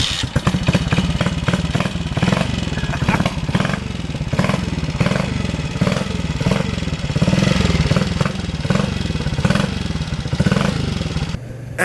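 A 1973 Ducati 250cc single-cylinder motorcycle runs close and loud, its engine pulsing in a steady rapid beat with mechanical clatter and a few slight rises in revs.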